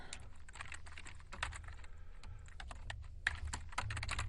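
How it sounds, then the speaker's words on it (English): Fast, uneven typing on a computer keyboard, a dense run of close, crisp key clicks in bursts with brief pauses, steady and fairly quiet throughout with no voices. "His fingers glide over the keyboard like a surfboard in a storm"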